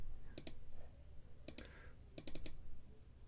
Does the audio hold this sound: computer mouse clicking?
yes